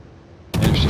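Shells slam into a Gearing destroyer during a World of Warships naval battle, a single loud impact bursting in abruptly after near-silence and ringing out briefly.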